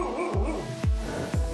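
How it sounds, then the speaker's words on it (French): A dog lets out three short, playful barks, close and fairly loud, each a sharp yip spaced about half a second apart with no one talking. "Ce genre d'aboiement traduit une situation positive, comme une invitation au jeu ou une demande d'attention"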